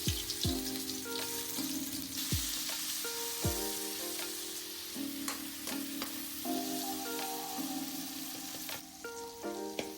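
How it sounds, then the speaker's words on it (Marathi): Garlic-ginger paste dropped into hot oil in a kadai for chicken curry, a soft steady crackling sizzle running beneath louder plucked background music. "गरम तेल झाले, आता आपण लसूण अद्रक पेस्ट टाकून घेऊ।"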